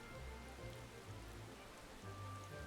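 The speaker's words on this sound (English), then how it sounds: "Yes, I know it's raining in game" Steady in-game rain from Final Fantasy XIV hisses softly and continuously, a faint even wash of falling drops with a low rumble beneath and no voices.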